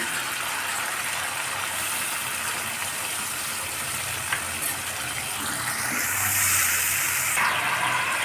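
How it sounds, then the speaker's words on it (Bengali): Water pours from a bowl into a cooking pan, a soft, steady gushing hiss that swells louder near the end, close by, with a faint clink midway and no talking. "সামান্য পরিমাণ বাটিতে জল দিয়ে সেই জলটাকে দিয়ে দিচ্ছি"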